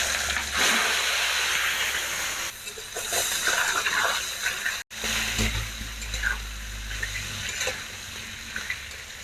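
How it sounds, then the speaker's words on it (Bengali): Potato pieces fry in hot oil in a pan for a Bengali eggplant and hilsa curry, giving a steady close sizzle and hiss that surges and settles, with a brief cut partway through. "আলুগুলো কিছুটা টাইম নিয়ে আমি ভেজে নিলাম।"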